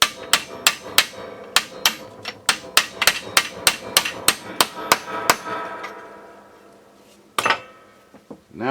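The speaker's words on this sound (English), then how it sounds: "I got a bigger hammer and I got it to start moving" Loud, close hammer blows freeing a stuck metal part of a boat trailer brake actuator, about twenty sharp strikes in an uneven rhythm, a brief pause, then a few more hits.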